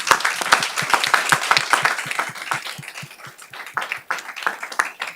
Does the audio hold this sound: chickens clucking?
no